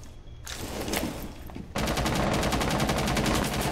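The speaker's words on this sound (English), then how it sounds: "they're shooting through it, they're shooting at me" Rapid automatic gunfire in Rainbow Six Siege aimed at a bathroom, a few scattered shots, then a sustained, loud, evenly spaced burst of fire that runs to the end.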